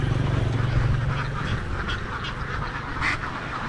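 Ducks on a Vietnamese farm flock of over 2,000 birds quack in a loud, overlapping chorus close by, with a low steady drone at the start and scattered sharper calls throughout.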